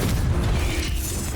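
A fiery blast from the Confringo spell in Hogwarts Legacy, a dense, loud booming burst that rolls and fills the whole moment without any talking.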